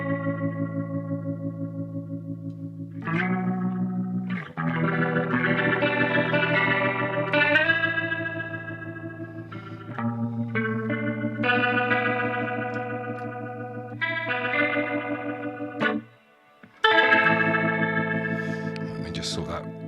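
An electric guitar runs through a BOSS GT-1000 rotary speaker effect with drive, playing sustained chords and notes with a swirling, wavering modulation and some echo, close and clear.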